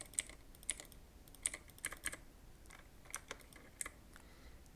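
Numbers typed on a computer keyboard in a quiet room, a dozen or so light clicky keystrokes tapped in short irregular bursts, close and fairly soft with no talking.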